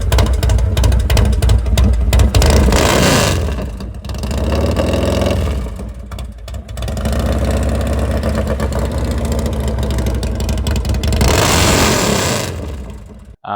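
A Harley-Davidson FXR motorcycle fitted with an RB Racing exhaust revs loudly up close, deep throttle blips rising and falling between steady rumbling idle stretches.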